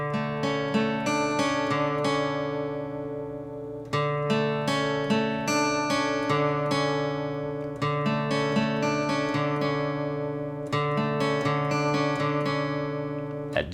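Electric guitar plays the riff from a song, a repeating pattern of picked, ringing notes cycling roughly every four seconds, close and steady with no voices over it.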